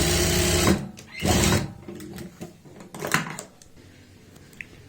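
A sewing machine runs in two short bursts while stitching pant fabric to finish a seam, followed by quieter clicks and handling noises.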